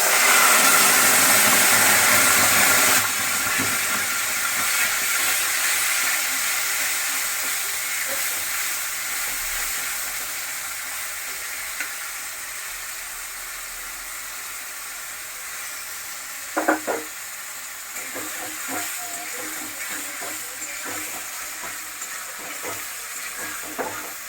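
A Bengali-style tomato mixture for sweet-sour-spicy tomato pickle hits hot oil with a loud, steady sizzle that eases slightly over time, broken late by a few sharp scrapes and clinks of stirring.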